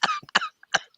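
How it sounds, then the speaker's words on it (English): Several people at a cannabis dabbing session cough together in three sharp, harsh bursts, close and loud with short gaps between them. "Now we cough in unison."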